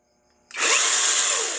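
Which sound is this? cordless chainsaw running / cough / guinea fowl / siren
cordless chainsaw running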